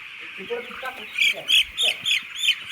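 Poultry chicks peeping in quick bursts as they are picked up one by one and moved across a farm enclosure, heard close and loud, with a voice talking at the start.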